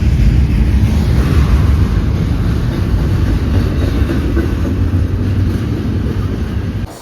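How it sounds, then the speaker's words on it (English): A BNSF freight train with a YN2 locomotive leading rolls past up close, a loud steady rumble with clattering wagons and wind buffeting the microphone throughout. "caught this train with the YN2 leading"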